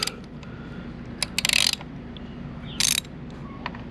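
A hex key works T25 screws loose on a 2018-2023 Harley-Davidson Street Bob primary cover, giving a few quiet metallic clicks and two short bursts of ratcheting scrape against a steady low hum.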